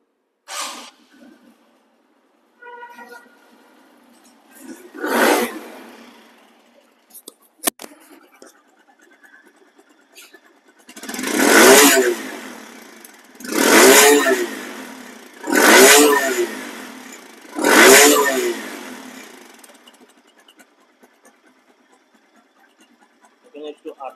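A second-hand TVS Stryker 125cc motorcycle engine idles, then revs up in four strong, evenly spaced throttle blips that each rise and fall back to idle, with a few earlier shorter revs and someone talking in between.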